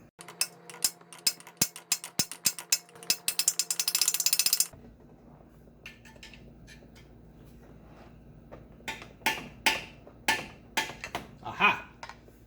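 Socket ratchet on a W126 Mercedes 300SD diesel clicking in a rapid run of close, sharp ticks that speeds into a dense burst, then sparse clicks and knocks as the plug turns.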